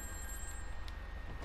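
A payphone rings in GTA V Online, a faint electronic bell tone over the game's steady low background hum, with brief bursts near the end.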